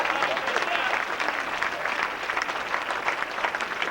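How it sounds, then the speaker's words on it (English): A live audience claps for a volunteer at a hypnosis comedy show, a full, continuous round of applause held at an even level throughout. "Give a round of applause for being such a great volunteer."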